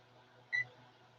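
Arrma EXB electronic speed controller in programming mode gives a single short electronic beep, faint against quiet room hiss.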